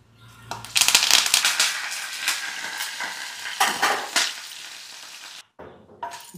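Curry leaves dropped into hot tempering oil with fried dry red chillies and seasoning spices for a moringa leaf chutney, bursting into loud crackling sizzle with sputtering pops and a pan clink, easing off before a brief cutoff.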